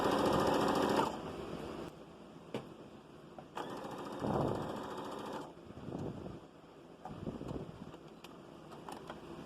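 A sewing machine top stitching the edge of a ruffle dress runs in steady close bursts of whirring, stopping and restarting between runs with no talking.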